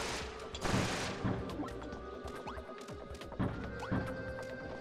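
Repeated cannon blasts in Kirby's Return to Dream Land Deluxe, several heavy booming shots at irregular intervals over dense game music and effects, loud and close throughout.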